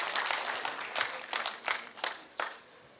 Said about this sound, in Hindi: हाँ, तालियां बजा के बजाइए।